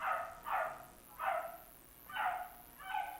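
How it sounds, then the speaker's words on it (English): A dog barks outdoors in four or five separate, fairly loud bursts spaced roughly evenly, with no talking over them. "Sorry, dog outside is noisy."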